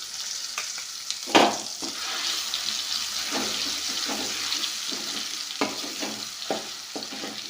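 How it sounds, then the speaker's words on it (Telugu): Onion-chili powder tempering fries in a pan while a spoon stirs it, giving a soft steady sizzle broken by sharp scraping clinks, with no voices. "మనం ముందుగా రెడీ చేసుకున్నటువంటి కారాన్ని, ఉల్లి కారాన్ని వేసుకోండి."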